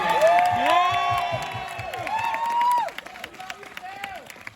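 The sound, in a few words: audience applause and cheering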